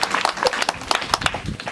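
Mourners clap at a funeral send-off held at a home in Mwingi, a loose, irregular run of sharp hand claps from a small crowd, fairly close and uneven in rhythm.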